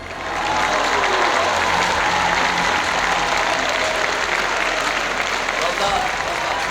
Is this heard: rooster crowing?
no